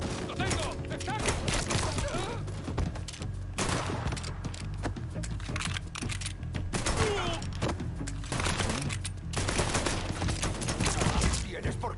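Dense, rapid gunfire in the video game Mafia 3 rattles nonstop in overlapping volleys, sharp cracks piling on each other, with voices mixed in beneath the shooting.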